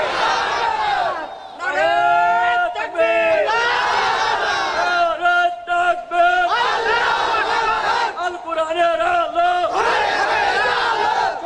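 A large crowd at a Bangla Islamic sermon gathering roars a takbir response in unison. The loud, sustained chant repeats in several waves, close and filling the space.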